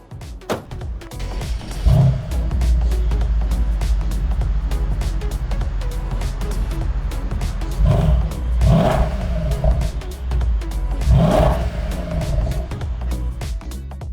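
A 2014 Mercedes SL63 AMG engine idles with a deep rumble and is blipped in several loud revs, each a short rising roar that falls back to idle, heard close.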